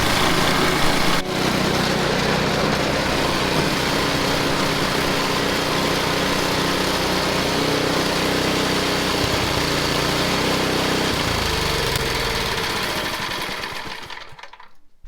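An engine on a 50-year-old Ariens snowblower runs loud and close, a rough, steady mechanical roar with a brief dip near the start and a sharper change late on before it fades out.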